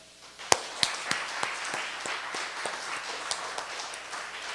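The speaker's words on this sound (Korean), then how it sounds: "여기 있는 사람들 한번 다 들릴 수 있도록 한번 박수 한번 쳐볼까요" High school worshippers at a church youth service clap together, starting with a few sharp, distinct claps that settle into a softer, scattered round of applause at moderate distance.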